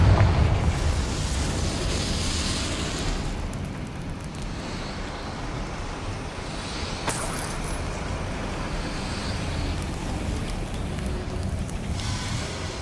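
A Confringo fire spell blasts in the game Hogwarts Legacy, a loud broadband burst at the start that trails into a long rumbling roar, with a sharp crack partway through and a steady noisy wash afterward.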